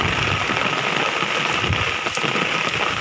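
Heavy rain driven by wind pours down on farmland, a loud, dense and unbroken hiss of drops hitting the ground that stays steady throughout.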